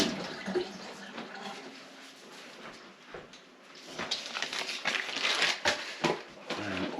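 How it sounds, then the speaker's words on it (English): Hands being rinsed under a running kitchen tap, a splashing, uneven gush of water with soft knocks, quieter in the middle and stronger toward the end, no voices. "let's rinse my hands off."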